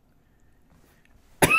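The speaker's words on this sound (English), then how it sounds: "not sure why I'm coughing like that." A single short, sharp cough close to the mic, bursting out at the very end after near silence.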